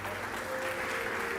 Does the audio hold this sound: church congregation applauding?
yes